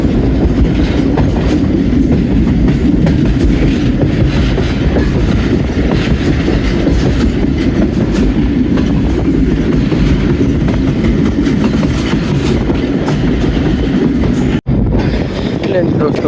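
A Pakistan Railways railcar, the 101 Up from Lahore to Rawalpindi, runs near Jhelum with a loud, steady rumble and wheel clatter that continues without a break for the whole stretch.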